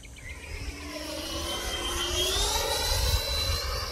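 A Freewing de Havilland Venom model jet with a 90mm electric ducted fan flies past, its high whine rising and swelling in loudness as it approaches, with wind noise underneath.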